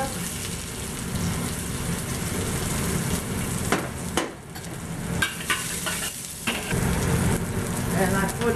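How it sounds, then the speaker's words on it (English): Onion sizzles in a hot wok, a steady loud frying hiss that runs throughout with a couple of brief dips as it is stirred. "now the wok is hot. So I'm going to put the onion in it"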